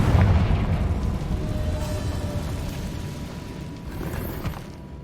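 A Confringo spell detonating in the video game Hogwarts Legacy: a heavy boom at the start, then a long rumbling roar that slowly fades, with no talking over it.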